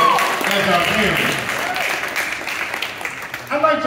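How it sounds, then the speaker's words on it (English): An audience applauds at a high school football signing day ceremony, a steady wash of clapping lasting several seconds that fades slightly before a voice begins talking over it at the end. "So tonight, I'm going to give them a great round of applause."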